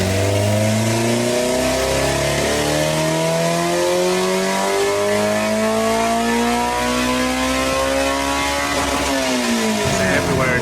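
A Honda S2000 engine on a dyno pull, revving steadily upward through a long, loud sweep with a clear VTEC changeover before the revs drop off near the end.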